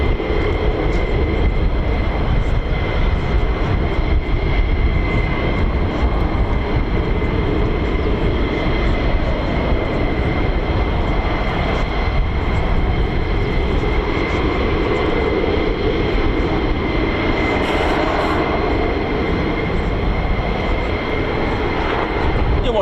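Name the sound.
F-15E Strike Eagle fighter jets flying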